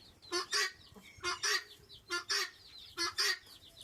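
Newly bought chickens call in short, loud paired bursts of clucking and squawking, about six clear calls in quick succession close by, with no talking.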